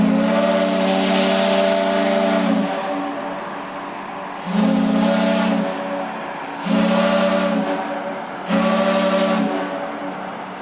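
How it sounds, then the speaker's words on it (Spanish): A steamboat's whistle sounds in four long, loud blasts at a port, each separated by short gaps filled with a steady hiss of steam. "tomó el barco de vapor en Baltimore"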